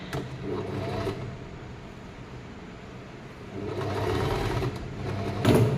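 A sewing machine stitches a folded blouse hem, a close, steady mechanical whirr that runs in bursts and eases between them, with a brief louder rattle at the end.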